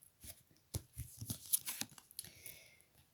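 Deck of tarot cards being cut by hand, a quiet string of close papery slaps and shuffling rustles, irregular and brief, ending in a soft slide.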